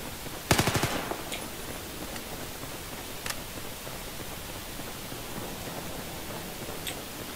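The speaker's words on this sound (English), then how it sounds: "Ooh, this looks like a nice gun. Very high rate of fire." A short, rapid burst of automatic fire from a high rate-of-fire close-quarters gun in Battlefield 4, followed by a few isolated shots over steady background noise.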